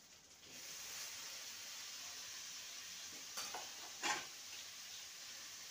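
Fried potato pieces and long beans sizzle in hot oil and spices in a pan, a steady soft frying hiss with a couple of brief scrapes and clinks from stirring.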